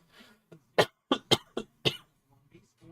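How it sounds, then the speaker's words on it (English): A handful of sharp coughs in quick succession close to a microphone, five or six bursts over a few seconds with a few softer throat noises around them and no talking. "I hate that I just coughed into the mic as well."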